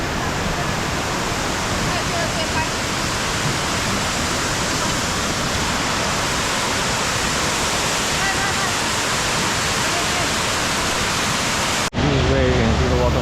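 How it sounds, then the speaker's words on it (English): Dense, steady roar of falling water fills the scene at a constant level, broad and close, then a brief shift in tone right at the end. "This is where you can see the waterfall."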